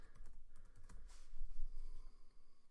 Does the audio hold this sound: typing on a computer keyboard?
yes